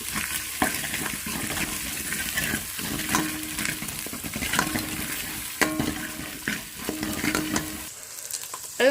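Turmeric is worked into a sizzling onion masala ahead of chicken pieces, a continuous close frying crackle with rhythmic spoon scrapes, and a brief rougher burst near the end.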